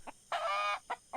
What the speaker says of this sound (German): das Huhn